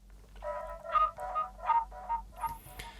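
A short melodic music-production phrase with delay and Logic's stock tremolo, played as a string of pulsing, wobbling mid-pitched notes that echo and repeat in a steady rhythm, fairly quiet and alone.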